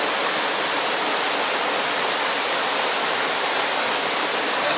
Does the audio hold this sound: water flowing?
yes